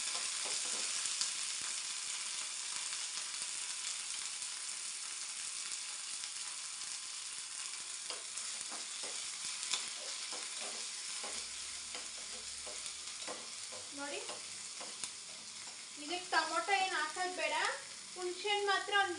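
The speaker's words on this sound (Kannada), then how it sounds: "2 ಟೇಬಲ್ ಸ್ಪೂನು ಎಣ್ಣೆ ಹಾಕ್ಕೊಂಡಿದ್ದೀನಿ. ಈರುಳ್ಳಿ, ಆಮೇಲೆ ಬೆಳ್ಳುಳ್ಳಿ, ಈರುಳ್ಳಿ ಬೆಳ್ಳುಳ್ಳಿ ಒಟ್ಟಿಗೆ ಹಾಕ್ಕೊಂಡ್ಬಿಡೋಣ." Onion and garlic fry in two tablespoons of oil in a pan, giving a steady soft sizzle with occasional scraping stirs, quiet and close, followed near the end by a short burst of louder clatter and sizzle.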